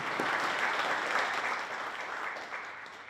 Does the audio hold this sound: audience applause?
yes